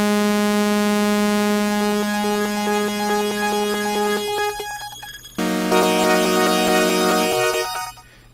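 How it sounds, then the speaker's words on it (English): A Hive software synth's delay, used as an octave pitch shifter, gives sustained buzzy synth tones with a grainy, clicky texture, a short break in the middle, then a second bright sustained passage that cuts off at the end. "that clicking that you're hearing is the result of the waveform in the LFO resetting back to zero phase."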